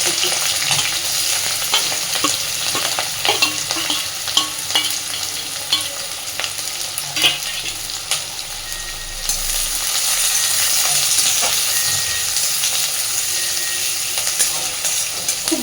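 Chopped ginger, green chili and onion fry in a hot pan for a Bengali lentil dish, a continuous loud sizzle broken by the scrape and clatter of stirring.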